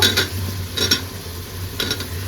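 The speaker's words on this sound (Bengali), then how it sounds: "তো এখানে দিয়ে দিচ্ছি আমি মোলাটা কষানোর জন্য।" Mola fish being sautéed and stirred in a pan, with a spoon scraping and clinking against the pan in a few short bursts over a low steady cooking hiss, heard close up with no talking.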